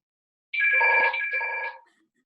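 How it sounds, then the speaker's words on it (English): A telephone rings in one sustained burst of bright, trilling electronic tone lasting just over a second, clear and fairly close, with no talk over it. "Someone's ringing the phone."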